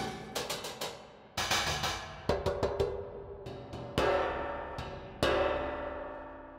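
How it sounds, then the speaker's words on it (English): Broken Cymbals patch from Transient Percussion Pro for Kontakt: a series of sharp, bright metallic hits with clanking, cowbell-like tones, each struck alone and decaying quickly, some in quick clusters and others spaced apart. "This time, I'll be using the Broken Cymbals patch"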